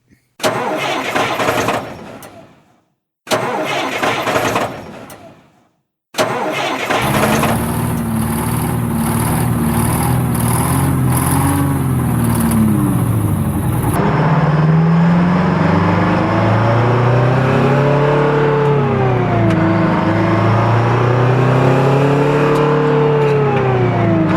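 A car engine cranks in two short bursts before it catches. It then roars to life with a steady, loud idle and rises and falls in pitch as the car pulls away and drives.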